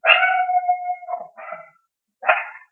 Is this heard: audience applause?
no